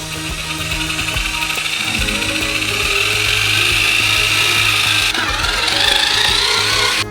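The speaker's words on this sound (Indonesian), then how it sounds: "Dan sekarang semua ini perlu dicampur dengan mixer besar." Large mixer churning a cottage-cheese-like dough for a giant homemade Kinder Country bar, a steady continuous grinding drone with rubbing mechanical texture that stays loud throughout, no voices.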